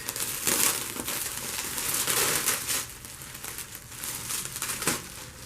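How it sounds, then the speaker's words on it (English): Plastic packaging crinkles and crackles steadily as a large 1/6-scale Super Baja Rey 2.0 4WD brushless desert RC truck is unwrapped, with close, continuous rustling and a few sharper crunches and no voices. "Let's unwrap it."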